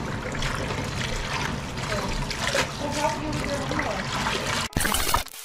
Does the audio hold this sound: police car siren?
no